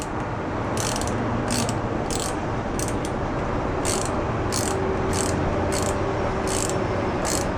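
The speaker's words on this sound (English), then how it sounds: "And then I can put my socket on there, tighten it up." A socket wrench ratchets while tightening a bike crank during bicycle assembly, giving a loud, close run of quick clicking pawl bursts in an uneven rhythm, with no talking.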